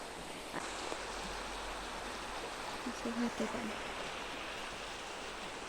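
Water rushes steadily along an irrigation channel beside a village pond, a soft continuous wash with a faint voice briefly audible partway through.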